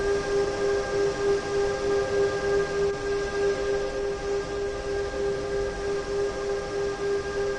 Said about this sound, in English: of course I can bring this train to a move right now